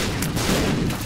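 Explosions in The Binding of Isaac on Switch, a dense, continuous rumble of blasts that stays loud and steady across the moment with no pauses.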